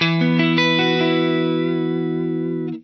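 A sustained electric guitar chord rings out through a Strymon Volante pedal in bypass, with a few strummed attacks early on, then a long clean, bright decay that cuts off at the end; no voices.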